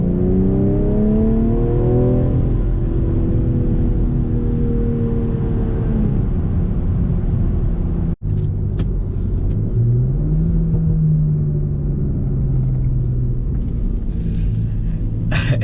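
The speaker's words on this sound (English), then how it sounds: "for this to be an automatic, it actually has rev matching downshifts that it does, and it sounds really good." A 2020 BMW M340i xDrive with an automatic gearbox drives close by. Its engine roars loudly and steadily, with rising and falling revs and blips from rev-matched downshifts, and no one speaks.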